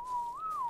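A single sustained whistled note from a player in Ark Survival Evolved, holding steady, then gliding up and back down over under a second, clear and close with no talk.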